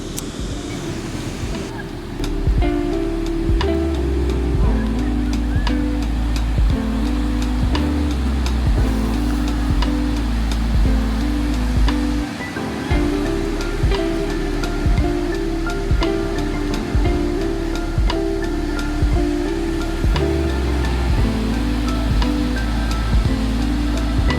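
Loud, blustery wind buffets the microphone over a constant roar of surf, with rumbling gusts throughout and no talking.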